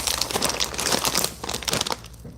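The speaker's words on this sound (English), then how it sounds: "look what I got. It's the roasted seaweed shrimp crackers" A bag of roasted seaweed shrimp crackers crinkles and crunches steadily up close, loud, continuous rustling handling that thins out toward the end.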